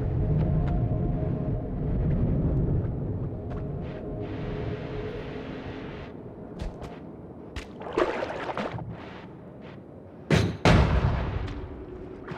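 Bombs go off in the Noita video game, with a heavy rumbling blast at the start followed by sloshing debris, then sharper cracking explosions near the end, loud and close over a noisy low background.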